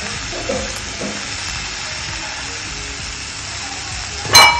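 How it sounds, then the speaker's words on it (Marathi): Spiced potato filling with frozen peas, coriander-cumin powder and salt is stirred in a hot pan: a steady frying hiss with soft scraping strokes throughout, and a brighter clink near the end. "आणि हे चांगलं मिक्स करून घेऊया"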